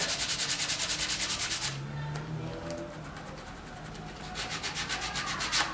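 Sandpaper rubbed back and forth over a sculpture, rhythmic close scraping strokes at the start, a brief pause, then the quick strokes resume at the end.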